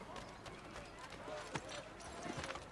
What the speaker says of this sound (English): Let's get some horses.